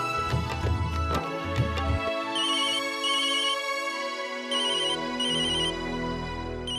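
A phone ringtone plays an electronic melody, with bright repeating trill bursts in pairs, loud and close, with no one speaking.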